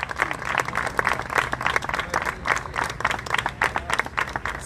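Dense applause from an audience at a ceremony marking the 15th anniversary of Rafaela's Urban Guard, welcoming an agent being honoured; steady, continuous clapping throughout.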